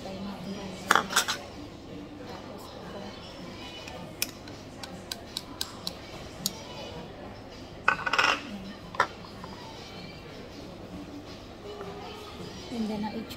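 Utensils clink against small dishes while three dipping sauces are mixed at a seafood hot pot meal, scattered light taps and a few louder clatters over a steady background of chatter.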